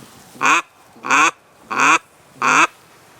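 Four loud, evenly spaced quacks from a duck call, each short and raspy with brief silences between them.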